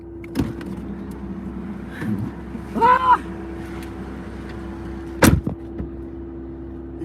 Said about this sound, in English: You guys hear how the air's just blasting?